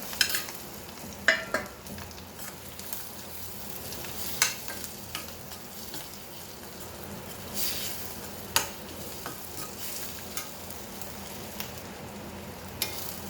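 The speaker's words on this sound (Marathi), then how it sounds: "तेल घालू आपण यात आपण आता ह्या वांग्याच्या फोडी परतलेल्या तळलेल्या घालू आपण" Fried eggplant pieces for a spicy Hyderabadi masala vangi are stirred in hot oil, a continuous quiet sizzle broken by occasional utensil scrapes and taps against the pan.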